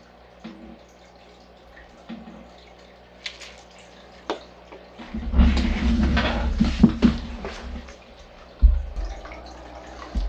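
Water poured and splashing into a home aquarium during a 50% water change for hillstream loaches, with sporadic drips early on, then a sustained louder pour in the middle and a brief splash near the end.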